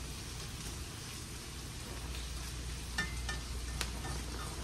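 Bacon and vegetables sizzling and browning in a pot for lentil soup, a steady crackling hiss with a few louder pops and light stirring scrapes near the end.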